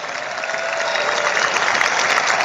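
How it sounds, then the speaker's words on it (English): A studio audience applauds guest Herschel Walker on a sports talk show, a steady, dense wash of clapping that holds at an even, fairly loud level throughout. "big round of applause for Herschel Walker joining the Sports Circus"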